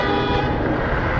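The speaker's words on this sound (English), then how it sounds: "Those cars are not honking at me." Steady, continuous car horn blaring up close amid dense traffic noise on a street in Pasadena, California, held without a break.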